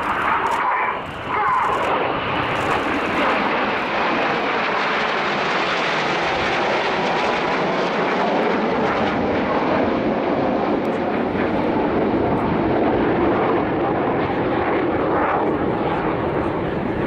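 Red Arrows RAF display jets at the Royal International Air Tattoo 2013 roar overhead in a loud, sustained broadband rush that swells and fades slowly, with no speech.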